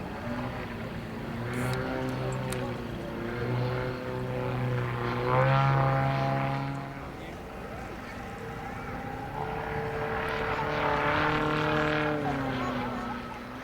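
A model Yak-54 aerobatic aircraft flies a pass at an air display, its engine drone rising and falling in pitch as it approaches, passes and loops around at a moderate distance, steady throughout.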